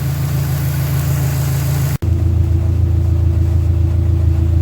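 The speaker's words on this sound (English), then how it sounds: "I'm just letting the engine run, and I'm going to let it warm up and make sure the fan is going to come on automatically" A Dodge Neon stock car engine idles steadily while warming up, a loud, continuous low rumble with a brief dropout midway before the same even idle resumes.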